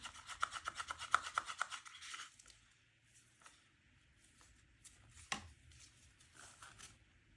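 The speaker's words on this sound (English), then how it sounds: "And now my other cup of mica powder. I'm gonna give it another stir." Mica powder colorant being stirred in a cup for epoxy resin, a quick run of rhythmic scraping strokes at the start, then quieter intermittent taps and clinks close by.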